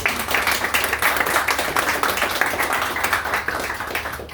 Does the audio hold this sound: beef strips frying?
no